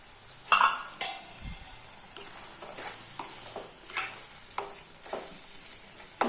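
Tomato thokku sautéing in a pan, with a soft, constant sizzle under repeated sharp scrapes and clinks of a spoon stirring against the pan.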